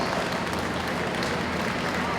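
Big round of applause for young champion showmen at a 4-H and FFA county fair sheep show, dense steady clapping from a crowd filling the whole stretch, with a voice over it.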